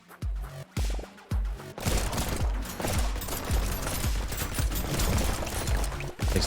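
Rapid minigun and pistol fire in the video game Brotato: a few separate shots, then a dense continuous barrage of punchy bursts, with no talking.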